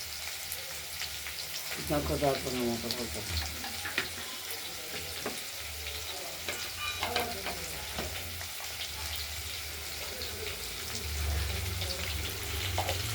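Potatoes frying in oil give a continuous sizzle at moderate level, with a few clinks and a brief watery swish in the middle; no talk.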